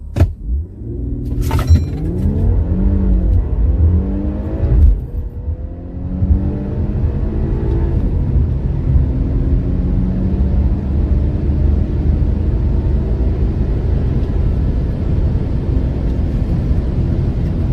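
An Infiniti Q50 fitted with a drag pack revs on launch control, its engine rising and falling a few times before settling into a loud, steady, held drone close by.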